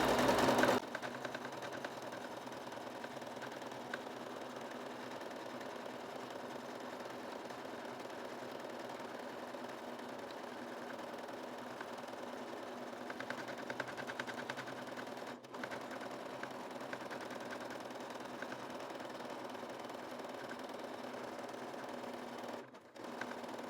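A sewing machine runs steadily, stitching a zigzag finish on a pear-pattern dish towel, with a continuous close mechanical whir and only brief pauses.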